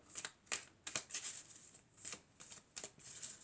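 Tarot cards are shuffled and handled in short crisp riffles and slaps, about ten quick bursts at close range in a quiet room, with no talk over them.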